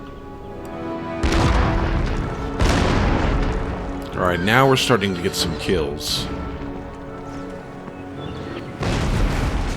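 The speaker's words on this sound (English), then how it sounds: "the cannons weren't obeying my orders. They were firing everywhere but where I asked." Cannon fire booms in an Empire Total War battle, a few heavy blasts spaced apart with someone talking over the middle stretch.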